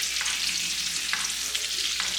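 A New York strip steak frying in a pan while being basted, giving a loud, steady sizzle with a few brief scraping sweeps of the spoon every second or so, and no one speaking.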